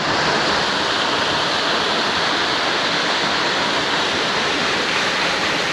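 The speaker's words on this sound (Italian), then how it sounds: "c'è la cascata" Steady, loud rushing of a waterfall at an oasis in Tunisia, a dense continuous roar of falling water with no other sounds.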